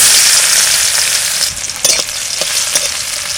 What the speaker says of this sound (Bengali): শাক ভাজা করব, তেল দিচ্ছি।